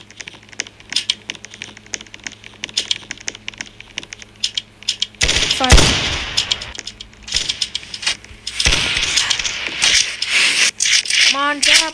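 Musket gunfire in a Roblox American Revolution battle bursts out in sharp loud blasts with rushing noise amid clicky game effects, with a person talking in places.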